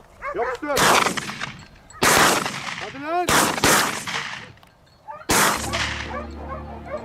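Loud, close gunshots fired at a wild boar during an outdoor hunt in Turkey: four sharp blasts spaced over several seconds, each with a long decaying tail, with faint voices and dog-like calls between them.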